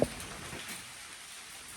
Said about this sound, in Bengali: বাইরে আজকে অনেক বৃষ্টি